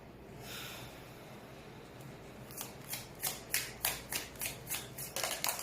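A deck of tarot cards is handled and shuffled close by. Quiet fiddling gives way to a quick run of crisp, rhythmic riffling flicks, about a dozen in a row, with no voices.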